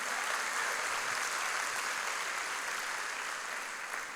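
Church congregation applauding during a sermon at a women's conference, a steady continuous wash of clapping that holds at an even level throughout.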